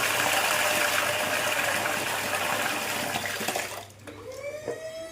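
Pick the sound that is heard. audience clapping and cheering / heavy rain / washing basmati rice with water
washing basmati rice with water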